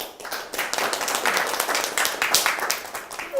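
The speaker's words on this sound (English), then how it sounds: "Everyone give it a round of applause for our guest tonight, Delaney Dean." An audience at an evening campus show applauds a guest, a dense patter of many hands clapping steadily at moderate loudness throughout.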